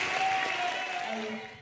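Audience applause at an Extremadura motorsport awards gala in Jaraíz de la Vera, a steady wash of clapping from a crowd that holds level and then starts to fade near the end, with no talk over it.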